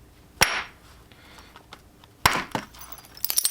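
Two sharp flintknapping strikes on a chert hand axe, each a crisp stony crack with a short ringing tail, spaced about two seconds apart, followed by a cluster of small clicks and taps at close range.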